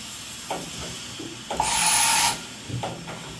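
A Feeler VMP-1100 4-axis CNC vertical machining center changing tools: a few soft mechanical clunks, then a loud hissing whir with a steady tone for under a second, then more clunks.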